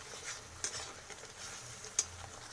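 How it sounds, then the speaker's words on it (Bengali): A spice paste of garlic, chilli and turmeric stir-fries with a constant crackling sizzle, and two crisp clicks of the spoon on the pan ring out above it. The sound is close, with no talk. "এবার মশলাটাকে ভালো করে কষিয়ে নেব"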